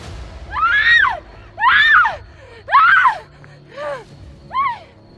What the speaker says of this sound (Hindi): प्रिया जोर जोर से चिल्ला रही थी।